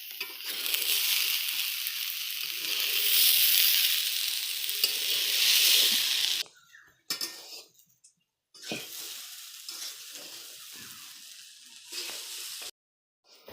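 Vegetables frying in a pan, a steady close sizzle with stirring for about six seconds, then breaking into shorter sizzling bursts between quiet gaps.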